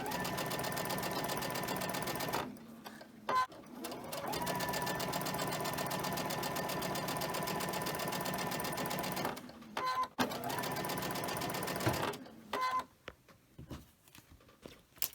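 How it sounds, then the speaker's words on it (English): A sewing machine chain stitches quilt pieces in long continuous runs of rapid, even stitching, broken by brief pauses between pieces. "Now we're going to chain stitch these."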